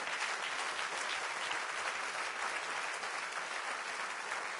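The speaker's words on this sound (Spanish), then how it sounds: "Dieron un aplauso al Señor." A church congregation claps for the Lord in a long, even wash of applause that stays steady throughout, fairly soft and distant, with no voices above it.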